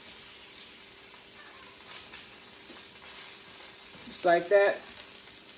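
Food fries in olive oil in a pan at breakfast, a steady hiss of sizzling running throughout, with a brief spoken phrase and a couple of short louder scrapes near the end.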